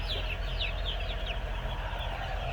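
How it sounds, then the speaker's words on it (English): Farm chickens cluck and squawk in short repeated bursts against a steady low hum of air moving through the house, with no talking. "Chickens are doing good."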